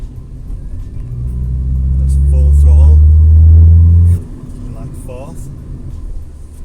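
A Honda Civic EK coupe engine revved at full throttle, a throaty rising rumble that builds for a few seconds and cuts off sharply, with a person talking over it.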